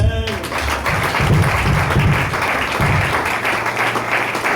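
Congregation applauding during a night-long crossover church service, steady dense clapping throughout, loud and close, with a voice briefly heard at the very start.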